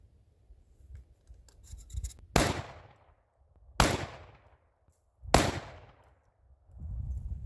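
Three loud, sharp shotgun blasts from a Panzer EG200 during outdoor field testing, spaced about 1.5 seconds apart, each followed by a quick mechanical clatter of the action cycling, with low rumbling handling noise in between.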